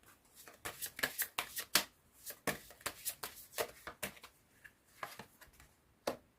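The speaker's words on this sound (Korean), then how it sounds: "그다음 마지막 조언점 카드 모아보도록 하겠습니다" Tarot cards are shuffled, a close series of quick riffling snaps and soft slaps in uneven bursts, pausing briefly before a final flick.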